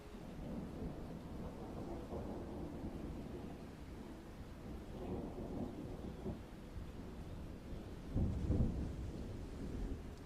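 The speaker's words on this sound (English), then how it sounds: "with its muffled lullaby, woven from thunder and rain" Distant thunder rolls and rumbles low and muffled over a constant hiss of rain, swelling into a louder rumble near the end.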